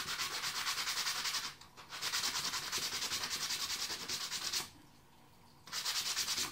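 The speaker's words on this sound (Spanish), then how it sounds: "la lija en este caso es para el palito que vamos a usar y para desbastar un poco las zonas" Sandpaper rubs back and forth over a small wooden stick in fast, rhythmic strokes, with two brief pauses, close and fairly quiet with no speech.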